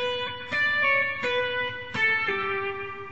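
Triplet figures with pull-offs from Pachelbel's Canon played on guitar with an effects unit, a handful of plucked notes ringing out bright and close in a steady, unhurried rhythm, with no voice.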